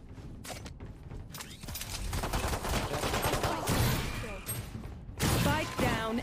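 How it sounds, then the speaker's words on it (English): Rapid bursts of gunfire from the video game Valorant, played on the Icebox map, crackle through a dense, busy mix of game noise with voices mixed in and a louder burst near the end. "I'm just shooting bullets for fun."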